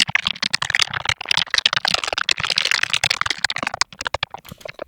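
Dense run of processed futuristic user-interface clicks, sharp and crisp, firing in quick irregular bursts close up with no voices.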